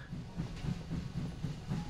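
A train in the VR game Hot Dogs, Horseshoes & Hand Grenades, played on HTC Vive, rumbles along with a steady low clickety-clack, its wheel beats repeating about every third of a second under a constant hiss.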